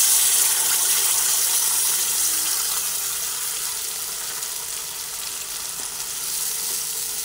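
A yogurt paste fries with ginger in a hot pan, a loud, steady, hissing sizzle that fills the scene without any talking.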